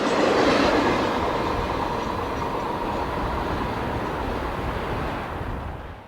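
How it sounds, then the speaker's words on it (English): A train trailing two Southern Railway cabooses rolls past, a loud, continuous broadband roar of wheels and cars that holds steady, then eases off slightly toward the end, with no voices. "As the train clears Central, note the two Southern Railway cabooses on the rear."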